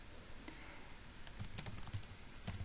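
Keys on a computer keyboard tapped in quick, uneven bursts at close range, with no voices, while a simple Python script is written in a terminal on Windows.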